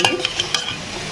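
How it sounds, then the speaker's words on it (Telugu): A ladle crushes and stirs soaked tamarind pulp in a pot, giving several quick wet squelches and scraping clicks, close and moderately loud, with no talking. "జస్ట్ ఇలా గరిటతోటి క్రష్ చేసుకోండి"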